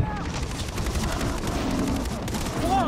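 Enemies open fire in the video game Far Cry 3, a continuous dense volley of overlapping shots with booming undertones filling the whole stretch, with a voice briefly audible amid the noise.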